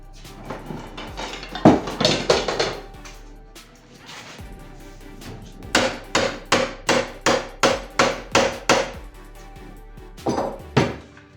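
Sharp hammer blows strike wood while fitting a double-reed wooden ratchet noisemaker, first in an irregular cluster, then a steady run of about ten evenly spaced knocks, then a few more after a pause.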